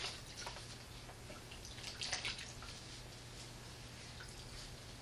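A foot is rinsed in a basin of water during foot care, giving faint, scattered drips and small splashes against a quiet background hum.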